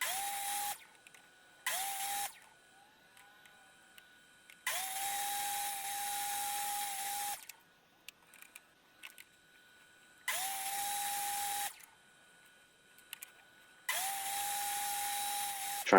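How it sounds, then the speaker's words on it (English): Table saw with a 45-degree sled cutting poplar picture-frame corners: the blade whines up to speed several times, runs steadily for a few seconds per cut, then spins down, with quiet pauses between cuts. "I'm over on the table saw. I've got a sled here that I'm just setting up a 45-degree angle on, so that I can cut the corners"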